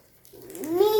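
A voice imitates a cat, giving one short meow that rises in pitch and swells in loudness over about a second.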